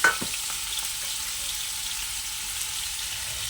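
Prawns and onions cooking in a pan produce a continuous, even hiss of frying that sits close and moderately loud, with a brief knock at the start and no talking.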